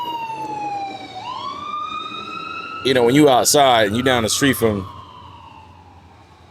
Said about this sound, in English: you're gonna get those ambulances